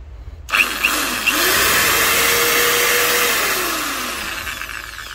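A BERALA 16RE corded electric drill, 750 watts and 3250 rpm, switches on after a few clicks and whirs steadily up close, its whine rising in pitch and then slowly winding down.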